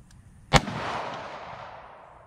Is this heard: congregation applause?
no